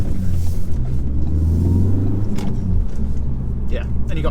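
A 2016 Ford Focus ST-3 diesel engine drones steadily from inside the cabin while driving, a loud continuous low rumble with road noise throughout.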